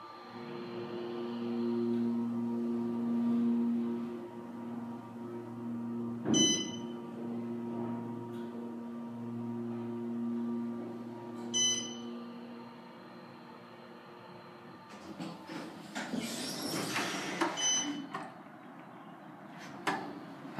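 An Otis Series 5 elevator's motor runs with a steady low hum and whine, broken by a couple of sharp clicks and later a louder burst of rattling noise, heard from inside the car.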